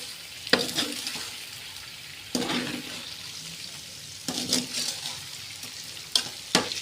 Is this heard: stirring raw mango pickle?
yes